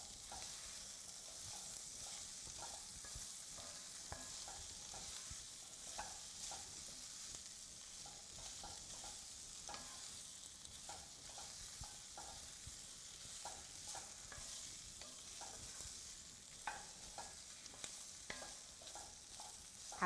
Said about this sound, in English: And we're going to stir all the vegetables around in that until they're pretty well coated.